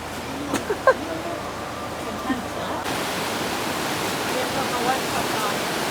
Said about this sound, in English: we are now by the side of a river